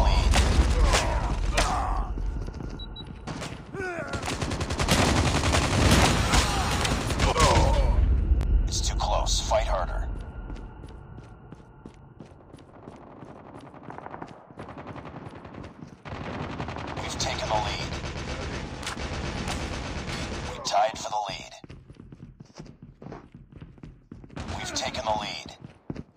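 Heavy automatic gunfire and explosive bursts from Call of Duty Mobile played on an Asus ROG Phone 2, loud and continuous for long stretches with brief lulls, with in-game voice callouts mixed in.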